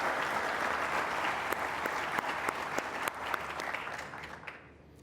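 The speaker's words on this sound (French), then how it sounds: "Je vous demande de les applaudir." An audience applauds young students honoured at an opening session, a sustained rattle of many hands with scattered distinct claps, gradually thinning and fading away at the end.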